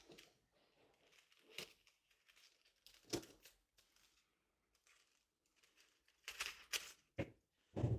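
Scissors cut fabric for a kimono top, giving soft, faint snips and crinkly rustles in irregular bursts, with a few louder close cuts near the end.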